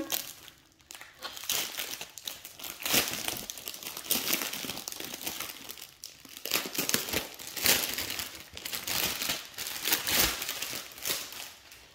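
Continuous close crinkling and rustling of plastic wrapping as diamond painting canvases are unboxed, steady and fairly loud throughout with brief tearing-like bursts and no clear speech.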